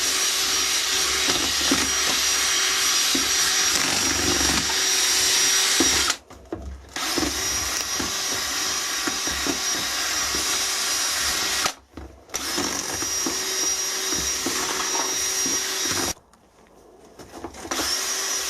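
Loud, steady motorised whirring of foundry sand being machine-mixed for sand casting, running in three long stretches broken by brief pauses, close and without talk.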